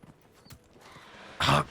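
Horse hooves clop at a gallop in Dragon Age: Inquisition, a quick, light rhythm, then a short loud burst like a whinny near the end.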